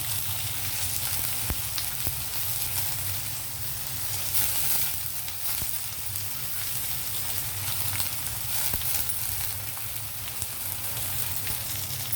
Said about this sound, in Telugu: ఇది లేత చిగురు కదండి త్వరగా ఉడికిపోతుంది అనమాట ఏం పర్వాలేదు మీరు ఇలా నలుపుతూ వేసేయచ్చు ఇది ఆయిల్లో మగ్గిపోతుంది అనమాట